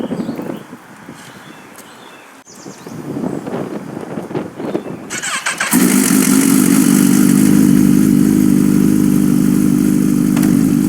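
Kawasaki Ninja H2 SX motorcycle engine, fitted with an aftermarket exhaust, rumbling at close range with wind buffeting the microphone. After about six seconds it surges into a loud, sustained run.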